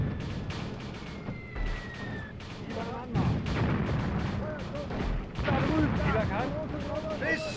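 An artillery barrage from the tactical war game Graviteam Tactics: Mius Front, with repeated booming blasts and rumbling impacts rolling continuously through the clip. A voice talks faintly underneath.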